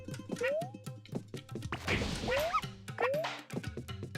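Short yips and barks from Poochy the dog in the Yoshi's Crafted World video game, a few quick calls scattered through game music and sound effects, moderately loud.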